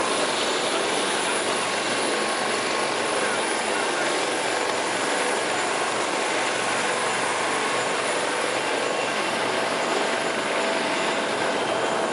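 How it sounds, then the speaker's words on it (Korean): Helicopter flying overhead during a news report, a continuous broad roar and whir that stays steady and fairly loud throughout, with no voices over it. "지금 항공기까지 다 떴습니다, 헬기랑"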